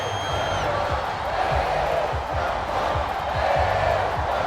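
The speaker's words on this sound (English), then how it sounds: "Tampa Bay crowd letting St. Louis know that they're here and they're coming for that top spot." A crowd cheers at a Tampa Bay Typhoon home football game against the St. Louis Archers, a steady stadium roar broken by rhythmic low thumps like stomping or drumming.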